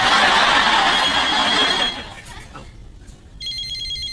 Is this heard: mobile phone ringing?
yes